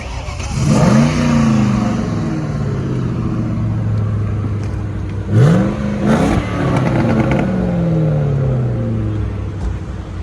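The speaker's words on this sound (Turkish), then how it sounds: "Şimdi bir V8 dinletisi yapacağız." A classic car's V8 engine revved at a classic car club gathering: two strong throttle blips that rise and fall over a deep, loud idle, heard close.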